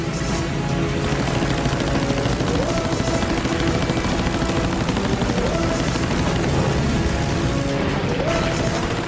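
A US Navy Dauntless dive bomber is circled by Japanese A6M Zero fighters in World War II combat, with loud continuous roaring engines, overlapping rattling machine-gun bursts and swooping passes filling the scene.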